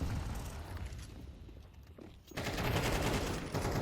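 Gunfire in a competitive online shooter match, with a dense burst of rapid shots, a brief lull, then another sustained loud volley, no talking.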